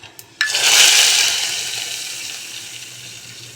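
Hot oil is poured into a pan, bursting into a loud sizzle that slowly fades, with no talking.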